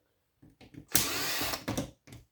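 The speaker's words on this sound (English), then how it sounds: "That drill bit doesn't want to work" Power drill whirring in short bursts while removing screws from an old electrical board, a few brief stuttering spins followed by a longer run, close and alone.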